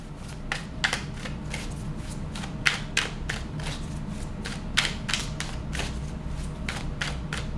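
Tarot cards being shuffled and laid out during a reading, a run of quick crisp riffling snaps and flicks coming in irregular bursts, close and fairly loud over a low steady room hum with no talking.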